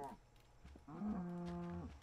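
A Minecraft cow gives a single low, drawn-out moo, loud and clear and standing alone with no talk over it.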